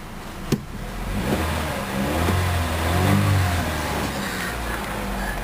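A 2008 Chevrolet Cobalt LS engine revved, a sharp click at the start followed by the engine rising in pitch, swelling, then settling back down to a steady idle.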